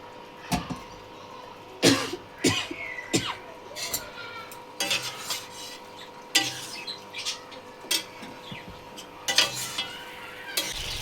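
Chicken marinated in yogurt, salt, turmeric and oil fries in a pan, a low sizzle broken by repeated loud scraping and knocking strokes of stirring at an uneven pace; no talking.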